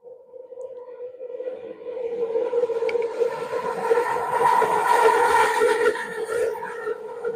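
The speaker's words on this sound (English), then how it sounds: "There's another train coming." A passing train with a droning horn-like tone that swells from quiet to loud and stays strong, heard alone without talking.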